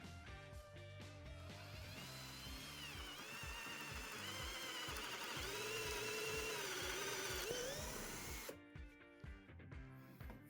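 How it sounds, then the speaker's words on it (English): A power drill with a sharpened 8 mm wood drill bit whirs steadily, its pitch rising and bending as it bores a hole, then cuts off, leaving a few faint clicks. "I'm just gonna drill a hole and then see how it's doing"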